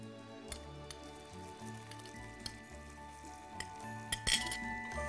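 Boneless chicken pieces go into a hot cooking pan, giving a steady soft sizzle with occasional metal-on-pan clinks and a louder clattering burst near the end.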